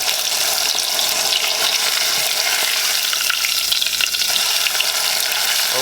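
Fish frying in overheated grease, a dense, loud, roaring sizzle with rapid spitting crackles, close and continuous from start to finish, with no voices.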